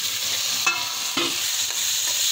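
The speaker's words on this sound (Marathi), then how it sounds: "हळद घातल्यावर आता टमाटर घालू आपण।" Tomatoes being stirred into a frying pan for veg pulao, spoon scrapes landing as a few distinct strokes over a steady close sizzle of oil.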